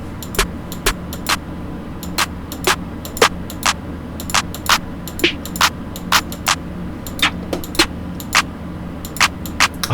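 Clap sample played in beat-making software: sharp, crisp clap hits repeat in a quick, regular pattern over a steady bed of other beat elements, loud and upfront with no talking.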